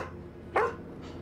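A dog in a scene from The Last of Us gives a single sharp bark midway through a short stretch of quiet background sound, with no talking over it.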